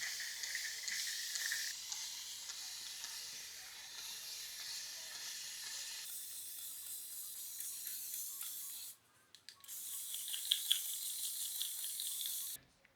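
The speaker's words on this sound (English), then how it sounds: "I'm putting on a lot of water right now because my hair is like really dry" A spray bottle misting water onto dry curly hair, a steady hissing spray running close and continuous with a brief pause near the end before spraying resumes.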